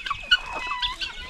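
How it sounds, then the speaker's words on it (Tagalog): A farmyard rooster calls among chickens, a short bright crow-like burst standing out over soft clucking and rustling, fairly close and unaccompanied by talk. "At may isa tayong tandang dito."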